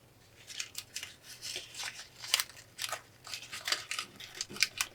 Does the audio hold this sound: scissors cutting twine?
yes